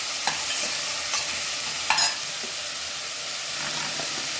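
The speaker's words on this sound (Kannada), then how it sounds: "ಈ ಪೈನಾಪಲ್ ಕಟ್ ಮಾಡಿದ್ದೀವಲ್ಲ ಅದನ್ನ ಹಾಕ್ತೀನಿ. ಸ್ವಲ್ಪ ಬೇಯಬೇಕು." Cut pineapple frying in a hot pan for pineapple gojju, a steady sizzle broken by a few soft stirring scrapes and clicks, close and continuous with no talking.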